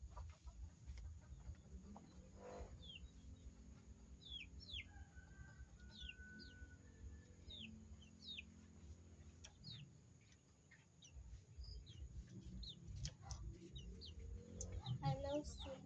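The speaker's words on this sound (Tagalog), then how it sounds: "Kuha ko ng food, papakainin ko sila," Pet chickens clucking and chirping softly while getting fed, scattered short calls over low rustling and handling noise, quiet and close, with a person talking at times.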